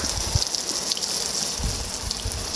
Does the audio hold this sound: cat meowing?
no